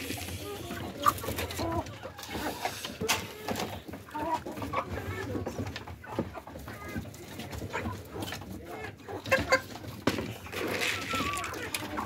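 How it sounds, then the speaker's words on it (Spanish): Hens cluck around their nesting spot on a small egg-laying farm during feeding time, a busy, close chorus of short clucks and calls over steady low background noise. "Acá es un nido de las gallinas."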